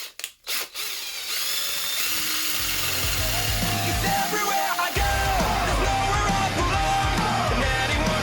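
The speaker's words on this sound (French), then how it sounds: "je vais essayer avec des petites brosses métalliques, donc à mettre directement sur perceuse" An electric drill spins up and grinds with a wire brush attachment on brake calipers, a harsh, steady whirring and scraping after a few brief knocks.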